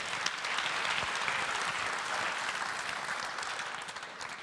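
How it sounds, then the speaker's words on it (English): A seated audience applauds steadily at a conversation event with an ambassador, a broad, even wash of clapping that carries on throughout before easing slightly at the end. "Give yourself a round of applause."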